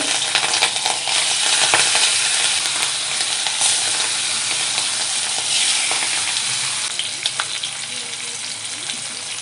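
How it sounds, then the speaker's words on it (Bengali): Hilsa fish pieces fry in hot oil in a pan, giving a loud, steady, crackling sizzle that continues throughout with a few louder spatters and no talking. "মাছগুলো একটু ভেজে নেব।"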